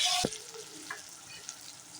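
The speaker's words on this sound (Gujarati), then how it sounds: "હવે આને 2 થી 3 મિનિટ માટે સાતળી નાખીએ." Capsicum and other vegetables for Gujarati batata poha sauté in a pan, a faint, soft sizzle with a sharp utensil clink near the start, quiet and steady with no voices.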